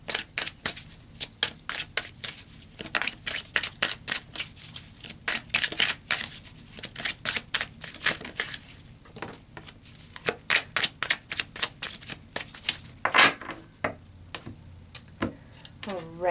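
Tarot cards are shuffled close up, with quick papery riffles and flicks in irregular bursts and occasional taps that continue steadily throughout.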